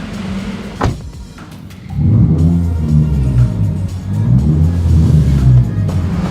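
A modified Honda Brio's deep exhaust rumbles from inside the cabin, starting quieter with a thump, then swelling into a loud throaty revving drone.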